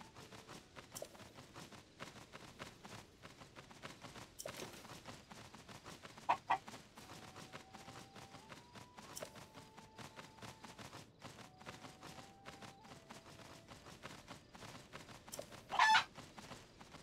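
A chicken clucks in the video game The Legend of Zelda: Tears of the Kingdom, with soft scattered clucks over a busy ambient bed of clicks and steps and a few sharper bursts.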